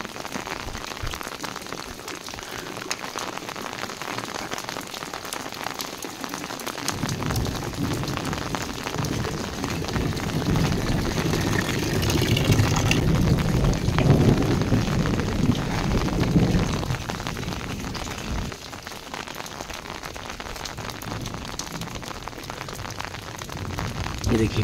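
Steady rain falling in a village in Uttarakhand, a dense continuous hiss of drops on surfaces with a louder stretch in the middle, close and even throughout, with no voices.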